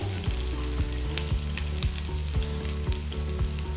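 Chopped onions tossed into hot oil for a spiny gourd (kantola) masala curry fry with a steady, loud sizzle and a few stirring scrapes, no talk over it.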